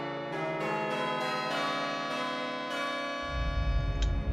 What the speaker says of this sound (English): it's a bell code. So you learn the password from elsewhere in the map, and you have to enter it on these bells.